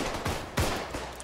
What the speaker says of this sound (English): I can't just keep shooting